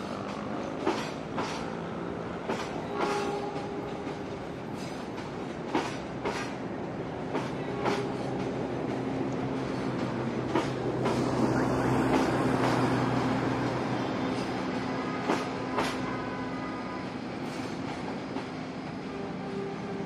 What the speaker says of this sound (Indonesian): api Mutiara Selatan sudah sampai stasiun Bandung.